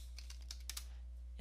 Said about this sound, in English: Now you want to type in Microsoft Photos